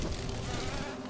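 A cannon bee enemy from Hollow Knight drones with a steady, close insect buzz that stays even and continuous throughout, with no voices over it.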